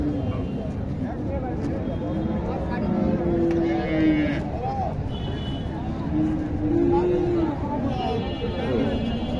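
Cows and calves at a village cattle market in Naogaon, with lowing moos rising now and then above a dense crowd babble and nearby voices talking throughout.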